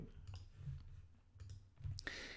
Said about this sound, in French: je clique sur le Holding Value